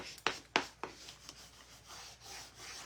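Hand burnishing on a craft surface: a few sharp scraping rubs near the start, then softer, fainter rubbing strokes continuing close by with no talk.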